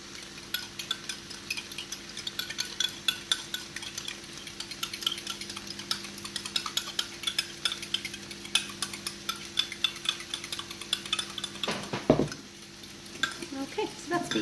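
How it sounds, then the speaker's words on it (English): Five eggs are beaten in a bowl with rapid, rhythmic clicking strokes. A steady hum sits under the strokes while vegetables fry nearby, and a louder clatter comes near the end. "I'm going to just beat my 5 eggs."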